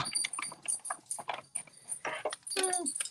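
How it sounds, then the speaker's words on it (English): A dog's metal collar tags jingle and clink in quick, irregular bursts close by as it moves, with a few soft rustles between. "You hear the tinkle, tinkle, tinkle. That's my dog."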